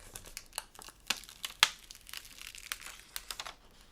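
A Cricut cut sheet peeled back by hand, giving close, crisp crinkling and small tearing snaps in an irregular run, with one louder crackle midway; no speech.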